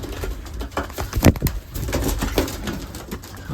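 Racing pigeons coo in a loft, soft throaty calls overlapping close by, mixed with scattered taps, shuffles and a brief flutter, no talk present.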